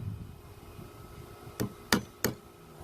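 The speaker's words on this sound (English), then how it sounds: "now I'm just going to go ahead and come to this other side and shoot a nail in it" Three sharp nail gun shots driving nails into a 2x4 farmhouse bench, spaced unevenly about a third of a second apart after a quiet stretch of low room noise.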